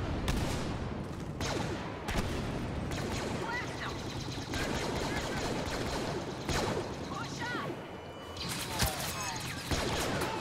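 Blaster gunfire in Star Wars Battlefront during a Walker Assault match, rapid sharp shots and crashing impacts in dense bursts, with a voice talking over the battle.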